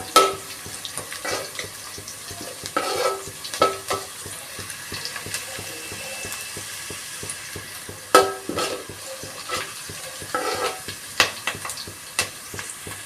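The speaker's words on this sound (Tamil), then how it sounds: "இந்த அளவுக்கு வெங்காயம் வதக்கணும். கொஞ்சம் கோல்டன் ப்ரௌன் ஆகட்டும்." Onions sautéed in a pan until golden brown for a South Indian fish curry, with a steady sizzle and repeated stirring scrapes at close range and no talking.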